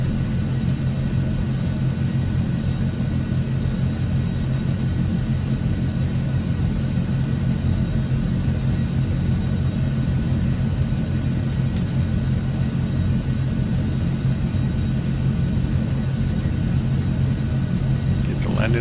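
An AzurPoly C160 light aircraft taxiing toward the runway in Microsoft Flight Simulator 2020, its engine holding a steady, loud droning rumble with a constant tone and no breaks.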